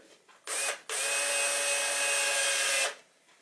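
A power drill drives preloaded screws into a wooden bird box in two bursts, first a short whir, then a brief pause, then a longer steady whine of about two seconds. The drill is close and alone, with no voices.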